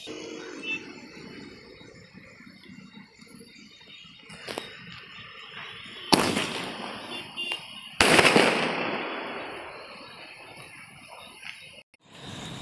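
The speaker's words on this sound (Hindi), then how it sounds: "तो अब जलाते हैं ये लास्ट वाले स्काई शॉट जो बचा है स्पाइडरमैन" Diwali sky shot fireworks go off outdoors, with sharp launching cracks followed by two loud bursting explosions whose crackle and rumble fade away, set against quiet night ambience with a distant thud between.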